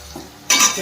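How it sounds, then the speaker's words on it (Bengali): Cornflour-coated potato fries drop into hot oil for deep frying: a quiet moment gives way to a sudden, loud bubbling sizzle that holds steady to the end. "ওদিকে ডিপ ফ্রাই তো হয়েই যাচ্ছে, প্রায় ডিপ ফ্রাই হয়ে গেছে।"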